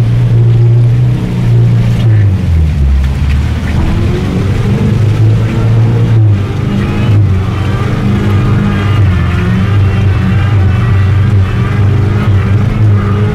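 A 4x4 off-road vehicle ploughs through deep muddy water, its engine droning loudly and steadily under continuous sloshing and splashing for over ten seconds, close up.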